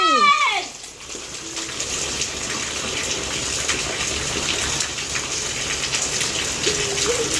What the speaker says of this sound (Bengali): এই তাহিদ ছাদে থেকে পানি মারতেছি